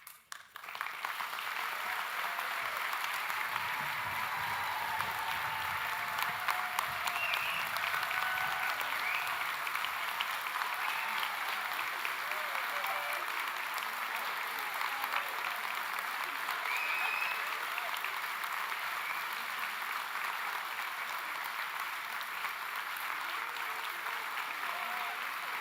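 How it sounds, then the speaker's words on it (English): Sustained audience applause fills a graduation ceremony hall, steady and dense from start to finish with a faint murmur beneath. "All that applause and not a single award"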